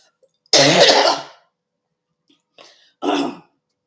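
Two harsh, throaty coughs, the first long and loud, the second shorter after a pause, with a faint sound between them.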